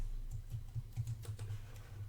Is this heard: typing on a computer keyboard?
yes